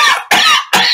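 A person coughs three times in quick succession, each cough sharp, loud and close, with brief pauses between them.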